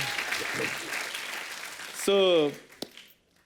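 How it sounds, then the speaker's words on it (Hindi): A studio audience on a comedy show claps for Salman Khan and Katrina Kaif, a brisk wash of applause that stops abruptly and gives way to a short, bright tonal sound before fading out. "तो जोरदार तालियां सलमान भाई के लिए और कटरीना मैम के लिए"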